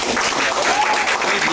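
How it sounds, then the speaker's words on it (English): Audience at a class applauding the artists with continuous, dense clapping throughout, mixed with a few voices. "please give them a round of applause and come out"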